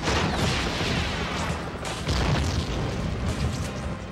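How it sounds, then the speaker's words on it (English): Bombs going off in the Spider-Man 3 PlayStation 2 game, a dense run of loud, crackling explosions with repeated surges and rumble, continuous throughout and without speech. "Bombs away, pest!"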